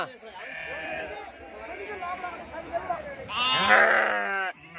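Sheep bleat loudly at a livestock market in Gudur, several wavering cries close by, the strongest one near the end, under people talking.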